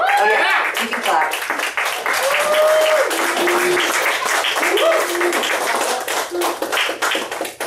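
An audience at a poetry reading and art show claps steadily after the reading ends, a dense close wash of clapping with a few voices calling out over it.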